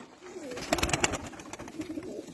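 A male pigeon of a Turkish playing-bird breed coos softly, a few low throaty pulses near the middle against quiet indoor background hiss.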